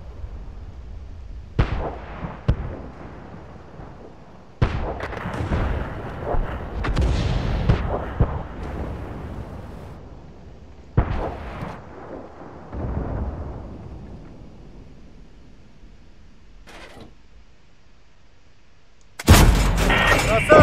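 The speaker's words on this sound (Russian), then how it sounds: "Отличный выстрел!" Gunfire and explosions in an online shooter video game come in loud bursts, dense crackling volleys that alternate with quieter gaps, and a sharp loud blast lands at the end. Players talk over the action.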